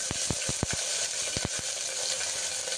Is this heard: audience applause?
no